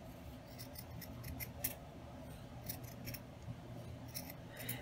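Scissors snip through nylon stocking fabric for a lollipop hair clip craft, giving several soft, quiet cuts in a row over a faint steady background hiss.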